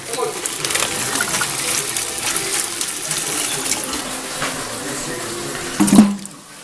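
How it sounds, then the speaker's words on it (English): Potatoes being rinsed under a kitchen tap for a Cajun crab boil, a steady close rush of running water into the sink with a brief clatter just before it cuts off. "Next, we're going to rinse off our potatoes."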